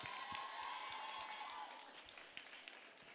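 Faint audience applause at a Paris beauty event, steady clapping with a few scattered cheers that softens after the midpoint.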